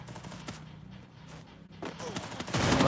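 Gunfire in a video game: several sharp shots and a rattling burst, the loudest near the end, over game background sound.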